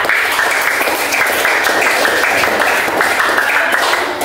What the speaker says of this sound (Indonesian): tepuk tangan untuk Mbak Eza